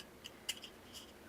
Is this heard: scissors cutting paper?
yes